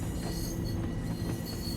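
A commuter train arriving in Train Sim World 3 rumbles as a steady, loud, close drone of wheels and carriages with a faint high squeal, continuous throughout and without speech.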